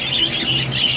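Pet spangle mutation budgerigars squawk and chatter in a continuous, close, busy stream of shrill calls with no talking.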